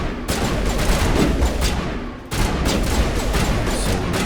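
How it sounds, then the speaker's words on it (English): Sustained gunfire from a firefight in Mass Effect Legendary Edition, dense overlapping shots and bursts filling the whole stretch, loud and close, with a brief dip before the barrage resumes. "So you're shooting there,"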